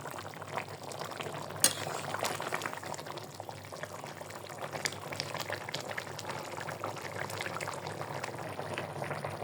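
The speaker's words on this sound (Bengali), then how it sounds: "তরকারিটা কিন্তু ফুটে গেছে।" A pot of vegetable curry with fish boiling steadily, a soft continuous bubbling and gurgling with small pops and one brief clink, fairly quiet and close, no talking.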